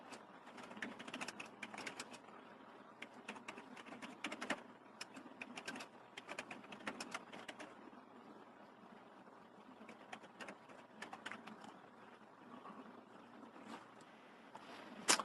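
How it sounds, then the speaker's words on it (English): Someone types on a computer keyboard in a quiet room, producing faint, irregular bursts of clicking keystrokes with short pauses between them. "I'm typing this in right now."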